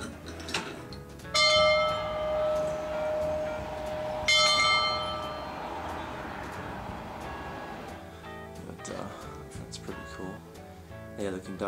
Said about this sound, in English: this thing here goes to the bell up front.